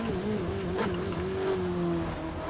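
A Ferrari 488 Pista engine heard from the cockpit in Forza Horizon 4, a steady droning hum holding a fairly even pitch with slight rises, moderately loud and alone.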